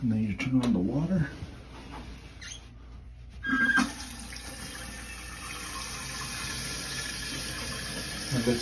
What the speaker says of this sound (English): And then you turn on the water.